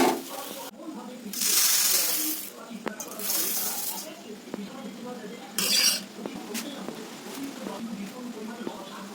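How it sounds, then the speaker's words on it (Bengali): Potatoes fry in a pan, with loud hissing bursts of sizzle and spatter and the clinks and scrapes of a utensil stirring against metal. A person talks quietly between the bursts. "চটপট করে আমি আলুটা ভাজা করে নিচ্ছি"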